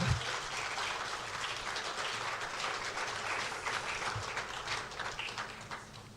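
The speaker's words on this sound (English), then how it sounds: "Oh, please, a round of applause." Round of applause from an audience at a Heritage Month event honoring a Director General, steady and moderately distant, many hands clapping without pause.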